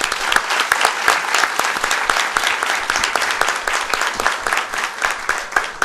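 An audience applauds at the closing session of a Brazilian legal congress, a dense, even burst of many hands clapping close by with no one speaking.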